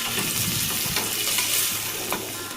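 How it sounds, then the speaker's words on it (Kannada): Tomatoes frying in a pan until soft, a steady close sizzle with faint scraping from stirring throughout. "ಟೊಮೆಟೊ ಹಾಕ್ಕೊಂಡು ಸಾಫ್ಟ್ ಆಗೋವರೆಗೂ ಫ್ರೈ ಮಾಡ್ಕೊಳ್ಬೇಕು."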